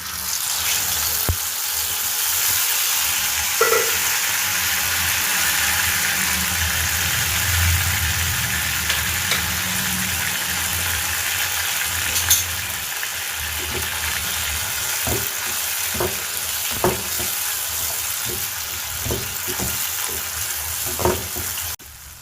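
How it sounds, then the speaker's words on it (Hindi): Tomato puree and spices fry in hot oil with a steady close sizzle, joined later by a series of sharp clicks and spoon taps as the mixture is stirred. "इस सारे मसाले को हम अच्छी तरीके से भून लेंगे"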